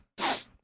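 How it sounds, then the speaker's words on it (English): A man lets out one sharp, close sneeze during a spoken talk-show intro: a short explosive burst that quickly fades to a breathy tail, with no talking over it. "I gotta sneeze."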